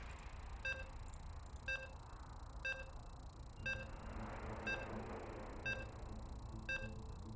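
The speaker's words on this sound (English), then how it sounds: "And you can hear the beeps." Evenly spaced electronic beeps, about one per second, while a StarCraft II match loads, clear over a steady low background hum.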